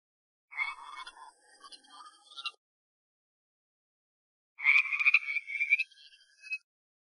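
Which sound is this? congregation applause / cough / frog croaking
frog croaking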